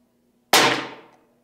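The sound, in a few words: Umarex Iconix .22 PCP airgun shots hitting target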